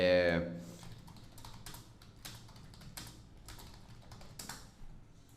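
Fingers type on a computer keyboard as a search is entered on Google, a quick irregular run of clicky key taps that follows a brief burst of speech at the start.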